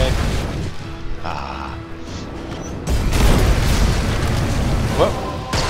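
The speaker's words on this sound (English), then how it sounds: "You should run away from that grenade." A grenade blast in the Magicka wizard deathmatch game, a loud booming burst that rumbles on for a few seconds amid other game effects, with a short spoken exclamation over it.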